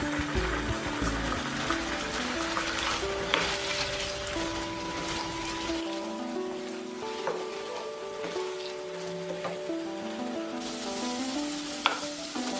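Beef frying in a little oil in a pan for beef tehari, lightly salted. It gives a steady, close sizzle for the whole stretch with a few sharp clinks and scrapes from stirring. No one speaks.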